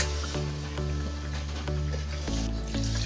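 Beef sizzles and fries steadily in a pot for spicy haleem while a spoon scrapes and stirs it in repeated strokes, close up.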